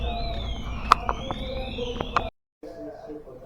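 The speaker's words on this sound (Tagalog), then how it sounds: "Ang lakas ng alarm." A loud electronic alarm wails in a rising and falling tone for about two seconds with sharp clicks, cuts out abruptly, then resumes more faintly, outdoors in the Czech Republic.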